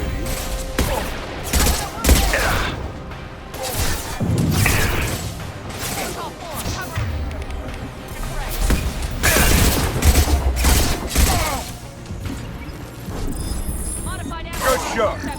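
Rapid bursts of gunfire and heavy concussive blasts in Mass Effect 2 crack and boom in an irregular, dense firefight, with voices talking over the action.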